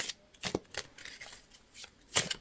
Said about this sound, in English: I just want to finish shuffling these cards.